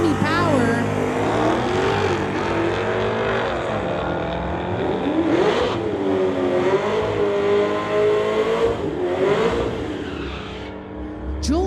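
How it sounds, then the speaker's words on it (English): A 1971 Pontiac and a 2019 Dodge with a 392 Hemi at a street-legal drag racing event: loud, close engines rev hard with repeated rising and falling pitch sweeps throughout. "Going against Clayton Schultz in the 2019 Dodge. He's from Coquitlam. 392 Hemi Power."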